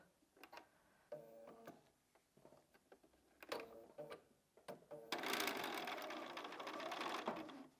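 Sewing machine stitching fabric for a curvy log cabin quilt block, starting with slow, spaced mechanical ticks and clunks, then breaking into a steady, louder run of stitching close by.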